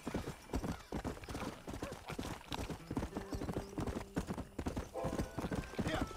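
Hooves clip-clop steadily as a horse gallops in Red Dead Redemption Remastered, a fast, even rhythm over the whole stretch, with game ambience and a low voice under it.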